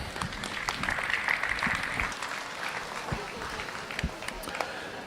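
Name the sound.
audience applause at county fair steer show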